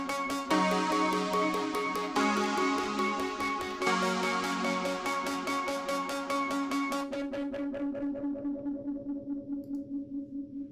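Distorted tones run through Logic's tape delay, distortion and tremolo together give a gritty, echoing, throbbing wash; it later thins into rhythmic pulsing repeats that gradually fade, with no voices.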